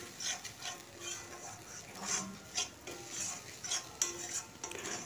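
Spice paste being stir-fried in a little oil for a Bengali chicken and vegetable stew, with a spatula scraping and tapping against the pan in irregular strokes, close and fairly quiet.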